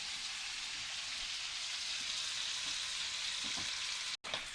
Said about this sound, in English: We're gonna put them nicely into the pan and cook them into the delicious form.